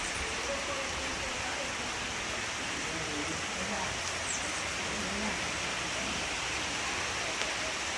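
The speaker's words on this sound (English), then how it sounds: "It's starting to rain." Steady rain falls outdoors on a home-grown cacao farm in Jaguey Rincon, Puerto Rico, making a dense, even hiss that holds at a constant level with no breaks.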